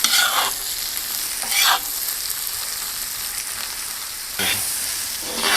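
Onion and carrots frying together in a pan hiss with a steady close sizzle, broken by a few bursts of stirring scrapes at the start, middle and end.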